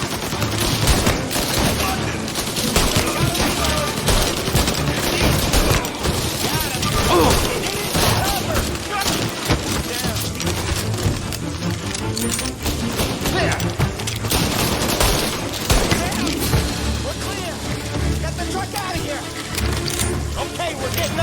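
Sustained gunfire from a shootout in Mafia: Definitive Edition, dense bursts of shots, crashes and impacts running loud and continuous throughout, with game characters shouting over the fight.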